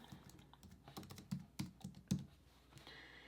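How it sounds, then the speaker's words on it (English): Quiet, uneven typing on a computer keyboard: a run of soft key taps with a few firmer strokes, close by. "So let's just start typing."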